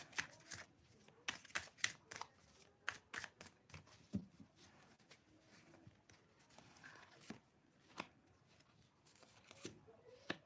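Tarot cards being shuffled and drawn on a table, heard as quiet, irregular flicks, slaps and riffles, close but faint, with pauses between bursts.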